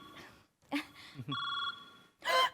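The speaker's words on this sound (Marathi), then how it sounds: "त्याचाच फोन आहे. उचला आता." A telephone rings in short electronic bursts, close by, with brief speech-like sounds between the rings.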